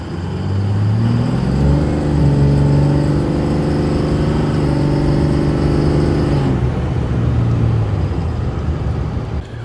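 A 2005 Cummins diesel truck accelerates hard under a loud, steady engine roar with rising harmonics, heard from inside the cab. The pitch climbs, drops at a gear change, then the roar carries on.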